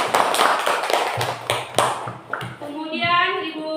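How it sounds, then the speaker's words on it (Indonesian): Schoolchildren clap their hands in an Indonesian classroom, a short burst of sharp claps mixed with kids' voices and chatter, ending with a ringing tone. "Beri tepuk tangan untuk Ila."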